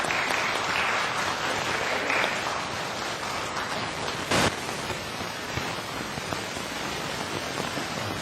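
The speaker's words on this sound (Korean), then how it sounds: "박수로 하나님께 영광 돌려드립시다." A church congregation at a Korean Sunday worship service applauds together in a long, even, rain-like wash of clapping that holds steady throughout.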